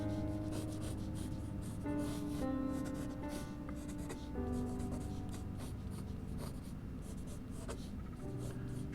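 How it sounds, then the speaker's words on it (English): A pencil sketches a Hummer from the side on paper, giving steady, close scratching and rubbing strokes that continue throughout, with a soft tonal musical bed underneath. "I'm going to start drawing a Hummer with the 3 lines"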